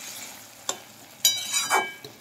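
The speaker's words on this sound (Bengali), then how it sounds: "এবার আমি দিয়ে দেব ভেজে রাখা চিংড়ি মাছ।" Fried prawns dropped into a simmering vegetable curry, giving a few soft splashes and stirring scrapes over a faint steady bubbling, close and fairly quiet.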